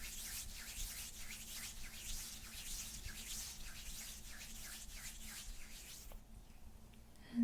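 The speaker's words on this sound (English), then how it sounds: "And first rub it on my hand." Hands rubbing a grooming product together, a soft continuous swishing friction with rhythmic strokes, close and quiet, ending in a brief louder touch.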